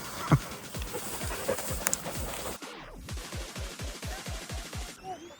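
Dogs at a shelter for stray dogs pant in quick rhythmic bursts, close and loud, with a few short sharp noises early on and a brief cut midway.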